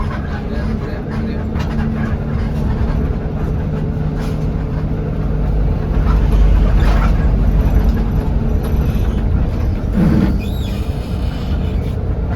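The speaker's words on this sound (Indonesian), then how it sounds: "bus sudah mendekati pintu gerbang dari terminal Purabaya Sidoarjo ini guys" A bus rumbles steadily toward the Purabaya bus terminal in Sidoarjo on a trip from Ambulu to Surabaya, a loud continuous engine and road drone heard from inside the vehicle.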